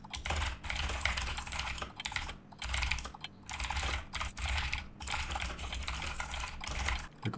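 Close-up typing on a computer keyboard with rapid bursts of key clicks separated by short pauses, the clatter steady and loud with no voices.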